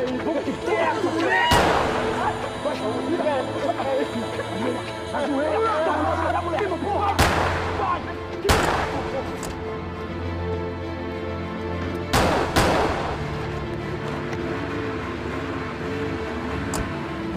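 Gunshots in a dramatized reenactment of a shooting near the Museum of Modern Art at Aterro do Flamengo, several sharp, loud cracks spaced a few seconds apart beneath continuous speech and background noise.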